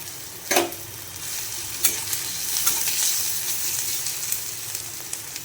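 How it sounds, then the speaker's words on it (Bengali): Chopped onion goes into hot oil over a lowered flame for soybean momo filling and fries lightly, giving a steady close sizzle with a few sharp stirring clatters near the start and again around two seconds. "তেলটা গরম হয়ে গেছে এর মধ্যে দিয়ে দেব পেঁয়াজ কুচি লাল লাল করে ভাজবো না একদম হালকা করে"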